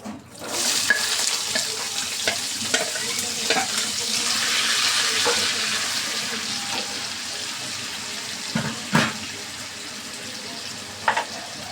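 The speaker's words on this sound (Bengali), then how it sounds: "এবার আমি এগুলো হচ্ছে ফ্রাই করে নেব তেলে দিয়ে দেবো" Green capsicum and onion pieces fry in oil with a loud crackling sizzle that eases to a gentler hiss, and a few sharp knocks of a utensil against the pan come near the end.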